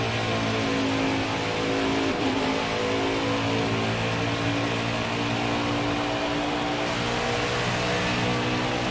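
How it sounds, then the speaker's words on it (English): NASCAR Craftsman Truck Series race trucks roar around Las Vegas Motor Speedway, a loud continuous engine drone with revving and passing whine sustained throughout, nearby and dense with no speech. "you got to listen to"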